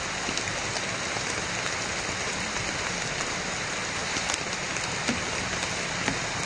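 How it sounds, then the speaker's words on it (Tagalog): Rain falls steadily in the mountains, a constant hiss of drops hitting surfaces with scattered sharper patters, an even wash with no talking. "Palaging umuulan."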